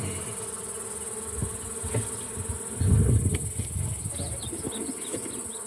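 Honey bees buzz steadily around a strong beehive during a hive inspection, a dense continuous drone with a brief louder swell near the middle as insects pass close.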